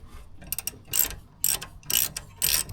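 A ratchet clicks in short bursts while undoing 14mm brake caliper bolts on a Mazda MX-5, rhythmic rasping strokes about every half second, close and fairly quiet.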